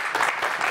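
A short burst of studio audience applause greeting a guest on the Gomel evening talk show, dense clapping that stays fairly loud and even for under a second.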